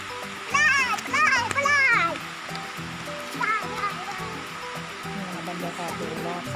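Pha Tat waterfall in Srinagarind Dam National Park, Thailand, gives a steady rush of falling water beneath lively nearby children's chatter, which is loudest early on before the water noise carries on alone.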